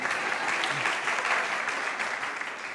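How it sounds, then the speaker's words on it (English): Steady applause from a church congregation fills the room, dense and even throughout before tapering slightly at the end. "you're applauding me"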